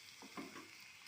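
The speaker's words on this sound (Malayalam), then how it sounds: "നമുക്ക് ചെറുള്ളി അരിഞ്ഞത് ഒന്ന് ഇട്ട് കൊടുക്കാം" Chopped shallots drop into hot coconut oil and start frying, giving a faint, steady sizzle with a brief stirring scrape partway through, with no talk over it.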